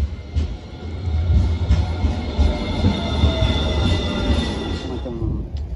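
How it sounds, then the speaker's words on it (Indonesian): Rumbling train noise fills a large indoor station in the Netherlands, with rolling wheels, faint squeals and echoing ambience, while people talk in the background. "Macam stasiun kereta"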